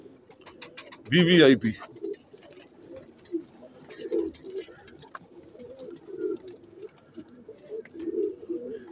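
Teddy pigeons coo softly in a low, repeated murmur while someone talks over them; one loud burst of noise rises briefly near the start.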